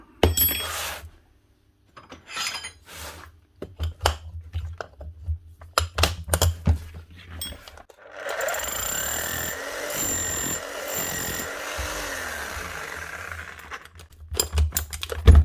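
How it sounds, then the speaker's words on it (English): A repaired power tool's hammer mechanism runs on test. Scattered clicks and handling clatter lead into about five seconds of steady motor whir with a rattling hammer action, then more clatter. "Motor's turning and she's hammering."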